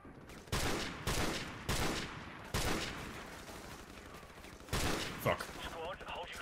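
Bursts of gunfire from the video game Call of Duty 4 Remastered, several loud volleys of rapid shots a second or so apart, with a lighter crackle of distant fire between them and a voice briefly heard.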